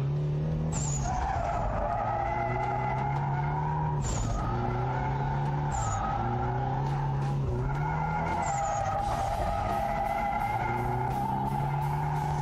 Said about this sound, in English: we're gonna start the drifting section